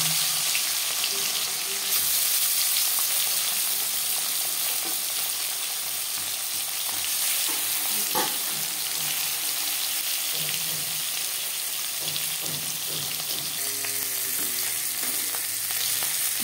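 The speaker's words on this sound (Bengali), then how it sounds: "এবার দিয়ে দেবো লবণ হলুদ মেখে রাখা মাছ।" Fish pieces marinated in turmeric and salt fry in refined oil with a constant close, crackling sizzle, broken now and then by light stirring and scraping sounds.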